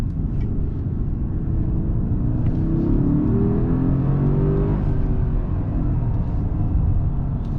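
A 2022 Mercedes GLE 580 with a V8 engine rumbles steadily and rises in a smooth rev, a deep, continuous engine drone heard up close with no talk.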